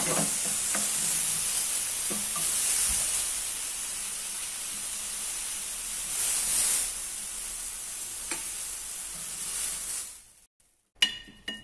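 Bananas grill on a pan with margarine, giving a steady close sizzle and hiss with small pops and stirring scrapes before the sound cuts out abruptly near the end.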